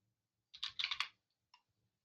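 Typing on a computer keyboard, a quick burst of about five or six close, faint key clicks followed by a lone click after a brief pause, in an otherwise quiet room.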